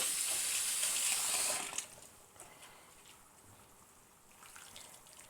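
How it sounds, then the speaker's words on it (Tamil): Small dried fish (karuvaadu) being rinsed in a vessel of water, a brief loud splashing gush of poured water close by that fades into softer sloshing and trickling. "இது வேறு குண்டாவில் அலசி எடுத்துக்கலாம்."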